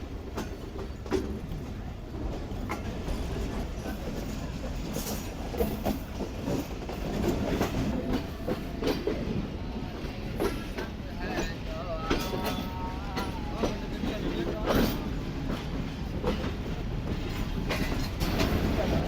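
The Karakoram Express passenger train rumbles steadily on its rails in winter, with rhythmic clatter and a continuous low roar heard from close by, while someone talks now and then.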